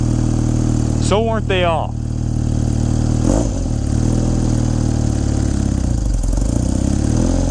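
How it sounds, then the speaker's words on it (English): A 1989 BMW R100G/S 980cc motorcycle, cold-blooded and on choke, idles steadily while warming up, loud and close throughout, with someone speaking briefly over the engine. "I'm going to let the bike warm up"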